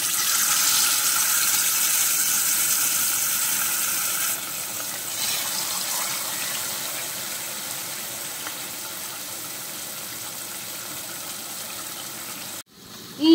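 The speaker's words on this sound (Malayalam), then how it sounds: "എണ്ണ ചൂടായിട്ടുണ്ട്, നമുക്കിനി മീൻ ഓരോന്നായിട്ട് ഇട്ട് കൊടുക്കാം." Pearl spot fish shallow frying in hot oil, a steady broadband sizzle that holds throughout and softens slightly partway, ending with a brief clatter.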